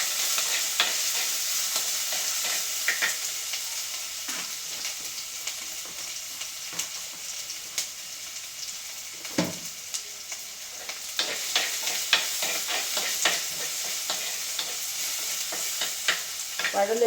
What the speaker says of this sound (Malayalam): ചതച്ച് വെച്ചിരിക്കുന്ന ഉള്ളി, ഇഞ്ചി, വെളുത്തുള്ളി ഇവയെല്ലാം കൂടെ ഇട്ട് കൊടുക്കുകയാണ്. ഇളക്കി കൊടുക്കുകയാണ്.